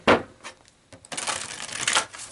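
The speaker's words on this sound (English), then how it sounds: "I feel like a shuffle is required." Tarot cards are shuffled close by: a quick riffle, a few soft taps, then a longer rapid papery flutter.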